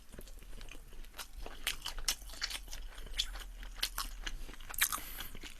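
Chewing soondae, Korean blood sausage, during a mukbang, with close, moist crunching and biting bursts repeating irregularly, loud and alone with no talking.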